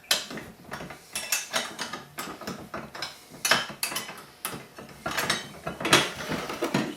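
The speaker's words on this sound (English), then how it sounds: "go ahead and take the bolts out that are left" Bolts come off the rack bracket of a Road Star motorcycle with a hand ratchet. Quick bursts of close, crisp metallic clicking repeat throughout with short pauses, and no one talks.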